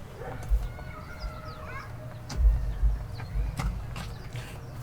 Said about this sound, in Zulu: usidayisela inkukhu engakhuli